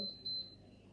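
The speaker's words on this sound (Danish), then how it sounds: "Mor, det bipper." Electronic beeping at home, a short series of thin, high-pitched tones in quick succession, fairly faint against a quiet room with some low background noise.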